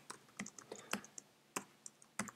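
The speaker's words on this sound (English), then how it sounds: "you could just type a comment in here" Fingers type a comment on a computer keyboard, quick irregular clicks in short bursts with brief pauses between, close and fairly quiet, no voices.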